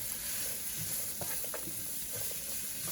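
Yellow, orange sweet and jalapeno peppers fry in a pan for fajita-style chicken tacos, giving a steady close sizzle with occasional soft stirring clicks and scrapes, with no talking.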